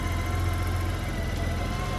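A steady low engine idle of a Honda Gold Wing GL1800 motorcycle, warmed up, rumbles evenly throughout, close by, with no revving or other sounds.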